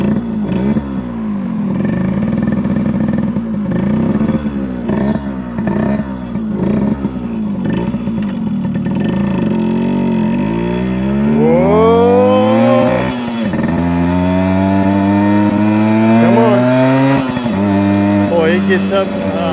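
A 1974 Yamaha RD60 small two-stroke motorcycle engine runs and revs, its pitch climbing and falling through repeated throttle blips before rising in a sustained high climb, close and loud.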